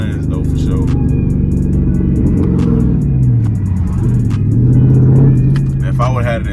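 Dodge Charger SRT with straight-pipe exhaust revving, a loud continuous engine rumble that rises and falls in pitch over several seconds, with someone talking over it.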